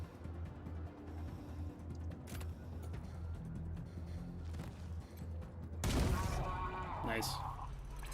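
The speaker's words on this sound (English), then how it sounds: "I'm hearing a heck of a lot of shooting" Gunfire in the post-apocalyptic video game Wasteland 3, a steady background of shots and bursts under ongoing talk, swelling into a louder, sharper volley toward the end.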